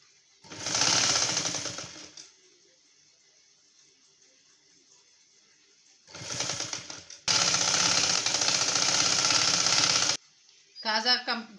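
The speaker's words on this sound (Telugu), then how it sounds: "దీనిపైన ఒక కుట్టు వేసుకొని దీని పక్కనే ఇంకో కుట్టు కూడా వేసుకుందాం" A sewing machine runs in three bursts while stitching a prince-cut blouse, the middle run long and steady, with quiet gaps between them. A short spoken phrase follows at the end.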